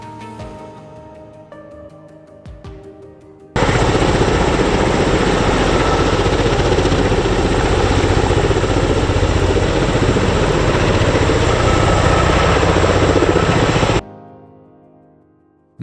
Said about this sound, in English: Its coaxial rotors moving in opposite directions, both hovering and forward flight, are extremely smooth